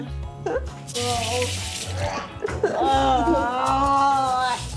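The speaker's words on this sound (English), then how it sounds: "While I wash my hands, you guys mush that up for me." Water runs from a kitchen tap while hands are washed during meatball preparation on a ranch, a steady rushing stream under background music, with people talking and laughing nearby.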